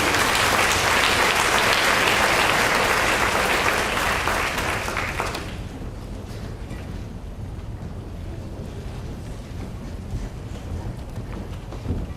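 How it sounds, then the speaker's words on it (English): An audience at a high school senior awards ceremony applauds award recipients, a dense burst of clapping that fades after a few seconds into a low room murmur. "let's give these ladies and gentlemen a round of applause"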